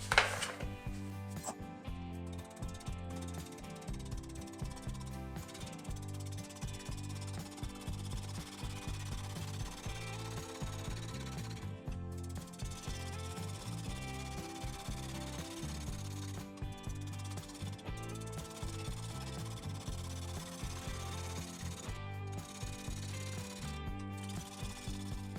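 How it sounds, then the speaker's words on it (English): A wood lathe spins a natural-edge maple bowl blank slowly while a half-inch bowl gouge cuts it, giving rhythmic scraping and thumping bursts in a steady cycle, close and continuous with no speech. "I'll be starting with my 1/2 inch bowl gouge to clean this up."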